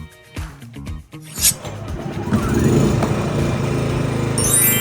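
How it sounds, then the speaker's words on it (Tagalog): A Philking PK2300i inverter generator is pulled over with its recoil starter in a few sharp tugs, then catches and settles into a steady, loud, close engine drone. "at ihilahin yung recoil starter"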